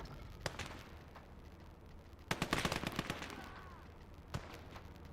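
Artillery fire and scattered gunshots in a war video game, with sporadic distant cracks and a dense cluster of blasts midway, fairly faint under a steady background rumble.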